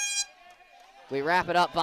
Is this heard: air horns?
yes